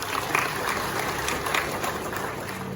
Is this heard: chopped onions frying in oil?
no